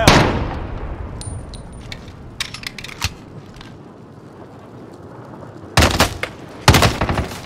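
Gunfire in Call of Duty: Warzone, with several sharp cracks scattered over a low rumble and two dense clusters of shots near the end, loud and close, with no talking.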